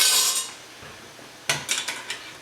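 A metal spoon is lifted from a pot of lightly boiling water sterilizing jam jars, a run of small metallic clinks and taps against glass and metal following a burst of bubbling hiss.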